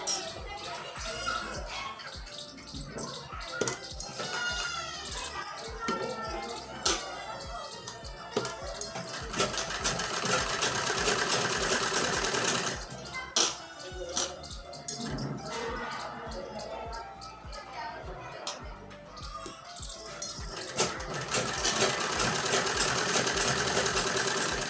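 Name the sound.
sewing machine stitching salwar pocket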